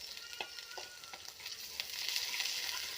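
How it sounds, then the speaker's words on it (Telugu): Masala paste frying in ghee gives a steady, bright sizzle over about three seconds. A few soft stirring clicks break through, and the hiss swells louder toward the end with no talking. "ఇది కొంచెం వేగనిద్దాం"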